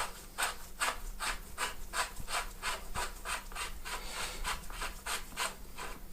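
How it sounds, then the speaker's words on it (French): A bicycle bottom bracket being unscrewed with a tool gives a steady run of rhythmic rasping, ratcheting strokes, about two per second, close and clear over a low hum, with no talking. "Et donc pour dévisser, on va dans le sens des aiguilles d'une montre."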